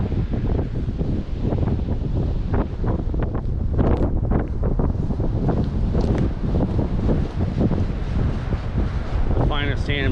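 Strong wind roars over the beach at Anastasia State Park in St Augustine, Florida, a loud, steady buffeting against the microphone with gusty surges.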